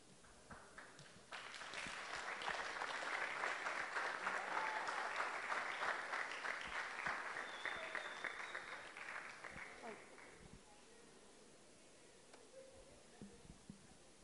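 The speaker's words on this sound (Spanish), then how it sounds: "Un fuerte aplauso nuevamente para despedir a nuestro último expositor del día de hoy." An audience at an international agricultural science congress applauds a speaker, a crisp burst of many hands clapping that swells, holds, then thins to scattered claps, with voices faintly underneath.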